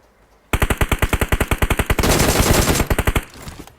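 Automatic rifle fire in PUBG Mobile: a loud, close burst of rapid, evenly spaced shots lasting about three seconds, blurring into continuous roar midway, then tailing off.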